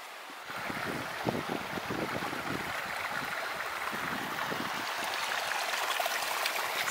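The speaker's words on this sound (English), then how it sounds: "it's a stream. It's a cascading stream." A cascading mountain stream beside a hiking trail rushes and splashes in a steady, broad wash of water noise, moderately distant and continuous, with no one speaking.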